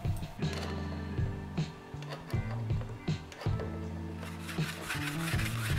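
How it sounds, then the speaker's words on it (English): A rubber abrasive pad scrubs the steel plate of a panel saw in quick back-and-forth strokes, a close, steady rasping rub with squeaky, ringing overtones. "some work with rubber abrasive pads"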